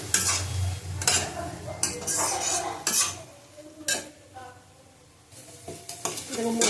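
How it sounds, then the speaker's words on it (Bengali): Spice paste and tomato for a tilapia curry with yogurt are stirred and sautéed in a pan, giving irregular spoon scrapes and clanks over a soft sizzle, with quieter pauses between strokes. "ভালো করে কষিয়ে নেবো আবার।"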